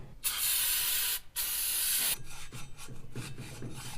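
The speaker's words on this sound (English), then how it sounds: "So I cleaned it all up with brake cleaner." Aerosol brake cleaner sprayed onto an oily engine intake runner from a Mitsubishi 3000GT VR4 6G72 twin-turbo, two loud close hissing bursts followed by softer rubbing and scrubbing sounds.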